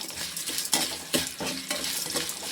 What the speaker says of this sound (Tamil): அடுப்பை ரொம்ப குறைச்சி வச்சு நல்லா அந்த பச்சை மிளகா கொஞ்சம் வேகும்